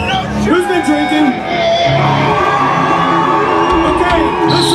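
A loud live-show crowd at a band's farewell concert cheers, whoops and yells continuously, with shouted voices rising over the din and a voice calling out near the start.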